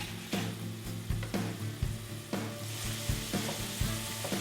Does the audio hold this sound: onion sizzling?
yes